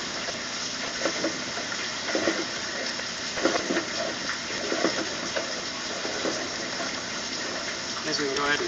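Steady rushing and gurgling of running water echoing in a sewer line, continuous and moderately loud, with occasional splashy surges.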